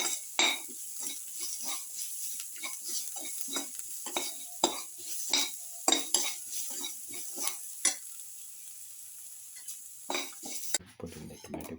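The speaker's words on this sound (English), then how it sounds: "Thoroughly saute mix." Spinach rice mix sauteed in a pan, with repeated scraping strokes of a utensil against the pan over a constant soft sizzle, close and moderately quiet.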